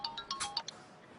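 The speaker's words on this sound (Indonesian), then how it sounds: "boleh saya terima telepon dari Mas Arga" A phone ringtone signals an incoming call, a quick run of bright electronic chime notes lasting about a second, fairly faint, with no talk.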